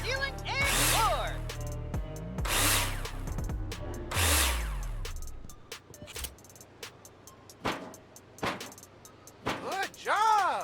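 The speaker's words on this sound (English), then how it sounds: "screw them in with a drill" In the video game Builder Simulator, an in-game drill drives screws through metal profiles into the ceiling and floor, making several short whirring bursts with clicks between them and background game tones.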